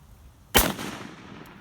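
Single sharp rifle shot from an 1895 Spanish Mauser carbine firing hand-loaded 7.62 NATO rounds outdoors, a close loud crack followed by a short decaying echo.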